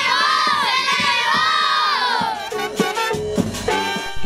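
Adults and children shout together in a loud chorus at a ribbon race during a patronal festival in Talnique, with rising cheers and then excited shouts and claps over general crowd noise.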